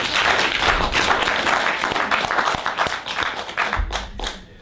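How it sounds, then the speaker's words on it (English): An audience at a lecture on the history of Christianity and Islam claps steadily for several seconds, a dense wash of hand claps that thins toward the end. "If you want to clap, it's okay."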